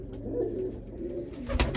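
Hobby-kept pigeons in a rooftop cage with young birds coo in low throaty phrases close up, followed by a sharp clatter near the end.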